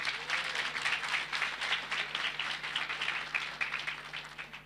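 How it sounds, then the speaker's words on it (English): An audience at a human rights symposium claps in sustained applause, a dense, even patter of many hands heard from a moderate distance and continuing steadily without any talk. "A round of applause for them, please."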